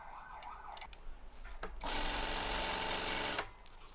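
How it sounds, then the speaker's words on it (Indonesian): A sewing machine stitches along the edge of a folded shirt collar stand in a short, loud continuous burst of about a second and a half, with a few quieter handling sounds before it starts. "Di awal kita lipat dan kita jahit pinggirannya"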